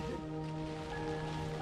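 Rain patters steadily on rain gear along a hiking trail, a constant close hiss with no voices over it.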